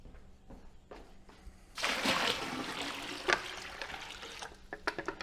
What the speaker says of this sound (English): let's fill up the bucket